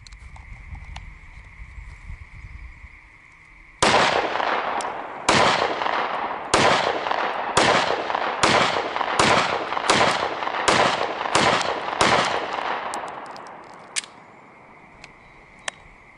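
Minuteman 9mm 124gr hollowpoint rounds fired from a pistol at a shooting range in a rapid magazine dump: about a dozen loud, sharp shots in quick succession with short ringing decay, no talking.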